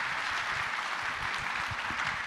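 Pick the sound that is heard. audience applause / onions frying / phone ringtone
audience applause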